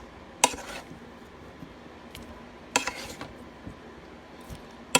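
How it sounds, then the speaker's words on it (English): Cooked potatoes drop into a small baking pan sprayed with non-stick oil, making three sharp metallic clatters spaced a couple of seconds apart over faint background noise. "I'm going to put some of these potatoes in the pan"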